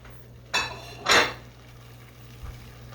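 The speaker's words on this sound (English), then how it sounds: "Get rid of this plate." A ceramic plate set down with a couple of clinks in a kitchen during cooking, two distinct knocks close by followed by a faint tap, with a steady hum underneath.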